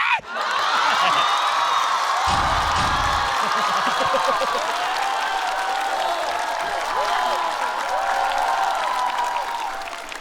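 A stand-up comedy audience at Liu Yang's show breaks into loud, sustained cheering and applause, with whoops rising from the crowd and the clapping staying dense and continuous throughout.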